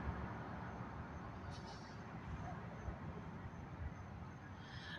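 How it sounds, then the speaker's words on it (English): Road traffic passing by at night, a steady low rumble and hiss of vehicles on the roadway, moderately distant and continuous throughout. "I'm going to stop speaking until the traffic goes by"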